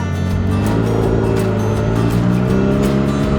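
A car drives along a dusty road in Samaria, with a steady, loud engine and road rumble running continuously and close throughout, no voices heard.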